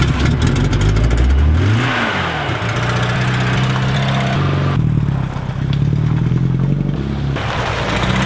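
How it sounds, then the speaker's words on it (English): A leaking older car pulls away and its engine revs up, rising in pitch as it accelerates, then settles into a steady drone as it keeps driving, loud and close with no talk. "Just been driving a few kilometers, but it's going good so far."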